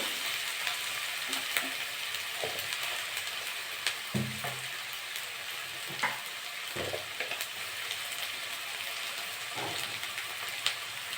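Spices fry in a pan for a silver calf fish curry, giving a steady soft sizzle with scattered louder crackles and stirring clinks at irregular intervals, close and moderately quiet throughout.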